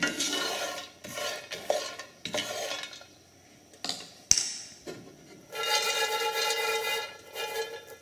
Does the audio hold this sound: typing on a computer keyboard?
no